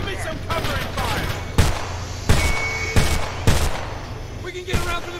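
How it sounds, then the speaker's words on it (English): Gunfire in the video game Homefront, several sharp shots at irregular intervals ringing out over a steady rumbling battle background, with voices calling out in between. "Shots on my position. Give me some covering fire."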